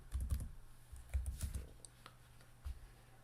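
Keys clatter on a computer keyboard in short bursts of typing with brief pauses, close and fairly quiet, as a search is entered in a Firefox browser during software testing setup.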